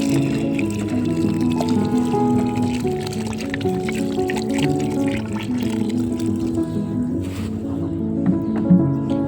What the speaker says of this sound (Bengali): এবার আমি দিয়ে দিচ্ছি গাছে একদম ভর্তি করে জল